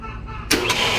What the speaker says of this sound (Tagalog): So atong paandar ng makina.